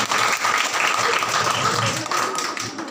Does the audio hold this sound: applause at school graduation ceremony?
yes